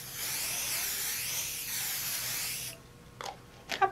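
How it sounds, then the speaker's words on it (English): A steady hissing spray from a can of 505 spray adhesive runs for nearly three seconds over quilting fabric, then stops, followed by a couple of faint handling clicks. "I like to use a 505 spray."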